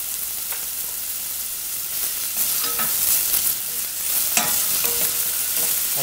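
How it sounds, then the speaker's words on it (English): Finely diced onions sweat in olive oil with a soft steady sizzle, broken by occasional stirring scrapes and clinks from a utensil against the pan. Nobody speaks. "We're going to put some finely diced onions and some olive oil. We're going to sweat them down."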